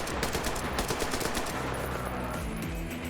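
Dense, continuous automatic gunfire from a first-person shooter, Metro Exodus, with rapid bursts layered over a busy game soundtrack for the whole stretch and no voices.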